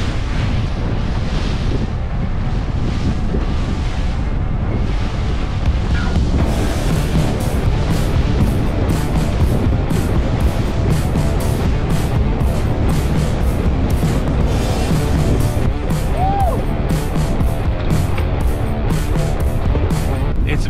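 Strong wind buffets the microphone on a lake during a bass fishing outing aboard a boat, with loud continuous rumbling gusts and splashing water throughout, steady and close.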